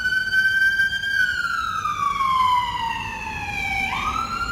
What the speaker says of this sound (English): See, yeah, it's an ambulance.